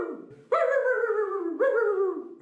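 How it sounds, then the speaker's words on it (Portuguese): A dog lets out two drawn-out, whining vocalizations in close succession, loud and near, with no talking. "Acho que esse cachorro tá me assustando"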